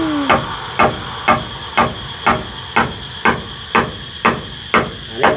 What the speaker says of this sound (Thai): ตอกตะปูมันยาก